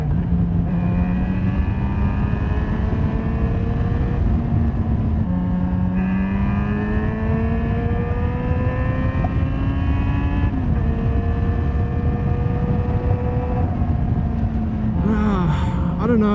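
A Yamaha XJ6 LAMS-restricted motorcycle under way, its engine droning steadily and rising in pitch as it pulls through the gears, with brief drops at each shift and wind rush throughout.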